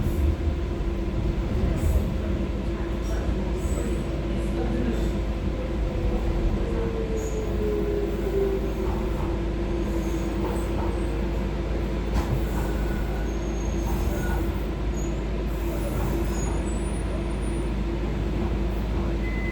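A Docklands Light Railway train in London rolls along steadily with a continuous rumble and rattle, faint wheel squeals rising now and then, heard from inside the car.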